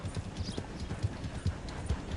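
Horse hooves in Red Dead Redemption 2 clip-clopping in a steady trotting rhythm as the horse approaches, fairly loud and close, with no one talking over them.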